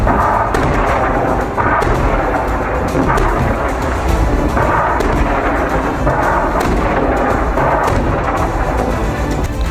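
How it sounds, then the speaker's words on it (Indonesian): Hezbollah rocket and artillery fire on Israeli troop concentrations in southern Lebanon, heard as a dense, continuous barrage of loud booms and rumbling blasts with no talk. "Serangan roket dan peluru artileri Hizbullah menyasar konsentrasi pasukan Israel."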